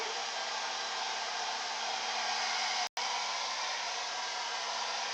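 Heat tool on a low setting drying acrylic paint on canvas, a steady close whooshing blow with one brief cutoff partway through, continuing alone without talk.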